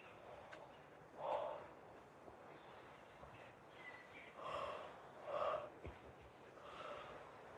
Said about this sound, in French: on va bailler